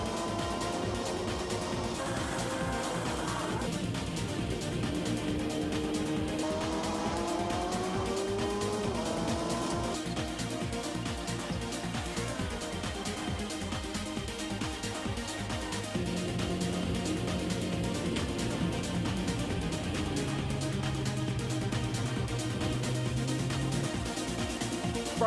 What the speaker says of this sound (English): the onboard from Andrew Hannington shows what great racing can still be had in the venerable 924s